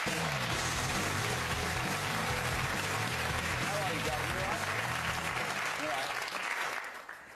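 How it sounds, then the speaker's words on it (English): Sustained applause from a TV talk-show studio audience, loud and steady throughout before fading slightly at the end, with a voice speaking over it. "Give her a round of applause."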